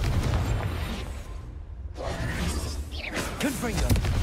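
A Confringo explosive spell cast in Hogwarts Legacy bursts with a loud whooshing blast, followed by crackling debris and rumbling game effects; a brief near-silent gap interrupts the dense roar before further swishing magical sounds rise.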